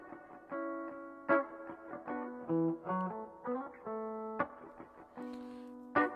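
Clean, mid-rangey Fender Telecaster through a Fender Vibroverb amp with reverb, playing a funky phrase of picked notes and chord stabs, close and moderate in level, with no talking.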